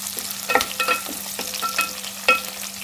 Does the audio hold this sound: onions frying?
yes